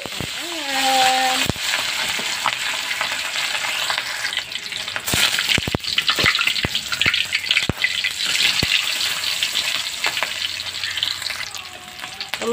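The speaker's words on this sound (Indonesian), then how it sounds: "Nah, minyaknya udah mulai panas, terus kita goreng ayamnya." Chicken for Indonesian ayam kremes sizzles and crackles steadily in hot oil, with occasional clinks of a utensil and a brief voice at the start.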